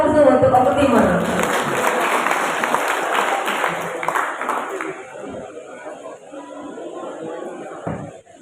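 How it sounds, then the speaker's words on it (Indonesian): Audience applause breaks out at a regional government development planning meeting in OKU Timur, a loud burst of clapping with chatter that fades over several seconds, leaving quiet room noise. "Kita beri aplaus dulu untuk Oku Timur."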